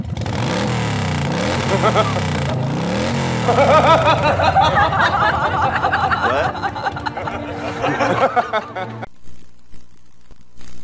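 Motorcycle and car traffic on a street in Phnom Penh, engines revving and passing close by with rising and falling whines, a person speaking over the busy roar before it cuts off abruptly.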